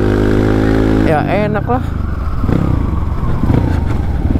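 A locally made Indonesian supermoto motorcycle hums along at a steady, close engine note, then its revs shift as it climbs an incline, with a short remark spoken over it.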